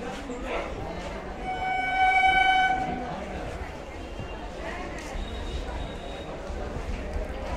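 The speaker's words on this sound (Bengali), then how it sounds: "ট্রেন ঢুকছে একসঙ্গে দুজনে।" Two suburban trains pull into a railway station platform together, with a long horn blast in the first seconds over a steady rumble of wheels and crowd noise, and people talking throughout.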